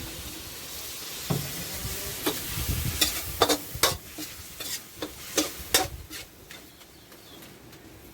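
Pork with beans is stir-fried in a pan, with a soft sizzle broken by sharp scraping and clacking strokes of a spatula at an uneven rhythm.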